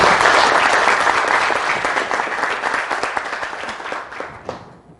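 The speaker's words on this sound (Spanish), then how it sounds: "damos un aplauso a Miguel." Audience applause at the close of an academic talk on adaptive fuzzy neurons, a dense burst of many hands clapping that starts loud and gradually thins and fades out over about five seconds.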